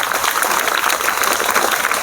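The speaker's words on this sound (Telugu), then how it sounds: "clap to Keshava once again" A group of students at a municipal high school awareness program applaud in a loud, dense burst of clapping that fills the whole moment.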